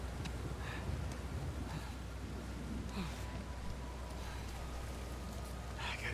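Steady rain falls on a beach in the video game Uncharted 4, a continuous soft hiss with light wind beneath occasional voices.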